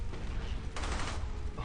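Gunfire in the World War II shooter game Brothers in Arms Hell's Highway, a dense burst of shots swelling midway through a short, loud stretch of battle noise.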